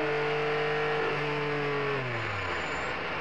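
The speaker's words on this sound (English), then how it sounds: "And here comes Bomarito. He's moved up in the second place. The Mazda 767B, car number 202." A Mazda 767B race car, number 202, screams past at a vintage sports-car race, its loud rotary engine note sweeping down in pitch as it passes and fades away.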